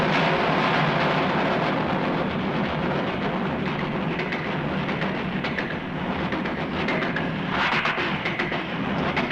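A man imitates a passing train with his voice, a loud, continuous rumbling roar with chugging texture and hissing bursts that swell near the end, heard alone without other talk.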